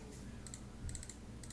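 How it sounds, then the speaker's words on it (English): A computer keyboard is typed on in a few short bursts of light key clicks as a website address is entered in a browser, quiet and close, with no voices. "then I'm going to type in ticket"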